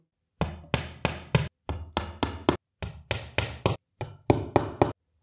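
Small wooden dowels are hammered into holes while assembling an IKEA Hemnes dresser. There are about eighteen sharp, loud knocks in quick groups of two to four, each followed by brief silence, with no speech.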